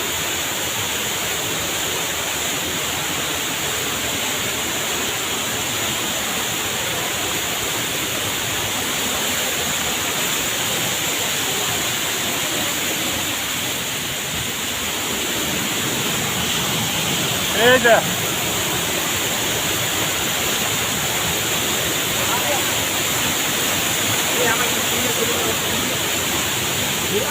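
Kancing Waterfall in Rawang, Selangor, Malaysia roars as a loud, steady rush of falling water close by, with a voice speaking briefly over it.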